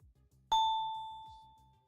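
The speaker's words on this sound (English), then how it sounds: "I got a bell right here." A single bright bell ding rings out close and clear, leaving a long ringing tone that fades gradually over a low background hum.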